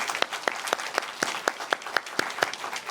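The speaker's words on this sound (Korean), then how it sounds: "우리 박수로 환영하십시다." A church congregation at a Sunday worship service claps to welcome new members, giving a brisk, steady round of applause with sharp, evenly spaced claps standing out above the crowd.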